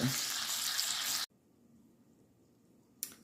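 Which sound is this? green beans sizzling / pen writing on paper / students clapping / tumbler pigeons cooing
green beans sizzling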